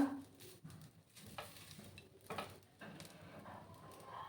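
Grated fresh coconut frying and being stirred in a pan for coconut burfi, with faint sizzling and soft scraping strokes of a spoon, quiet and close.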